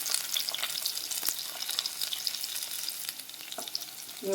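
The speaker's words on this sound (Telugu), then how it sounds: "ఇప్పుడు ఉల్లిపాయలు ఇలా ఫ్రై అయిన తర్వాత ఇలా బఠానీలు, బీన్స్ యాడ్ చేసుకోవాలి" Onions, peas and beans fry in a pan of oil, giving a steady bright sizzle with scattered pops and occasional stirring scrapes, close and continuous with no talking.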